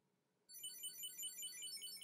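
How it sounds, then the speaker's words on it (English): A solar GPS tracker starts ringing after its ring-to-find button is pressed: near-silence, then a sudden repeating high electronic chirping ringtone in a quick, warbling pattern, moderately quiet and alone. "the GPS tracker starts ringing."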